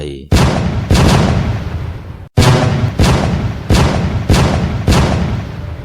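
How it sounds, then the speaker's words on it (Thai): A rapid series of loud, booming gunshots, about seven in quick succession with a short gap, heavy and reverberant, a gunfire sound effect in a Thai ghost story. "ระดมยิงเข้าใส่ทันที เสียงปืนดังสนั่นวันไหว"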